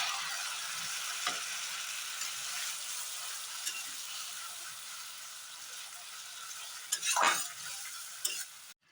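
A paste of poppy seed, garlic and chili fries in a pan with a soft, steady sizzle. Near the end comes a louder burst of scraping and stirring.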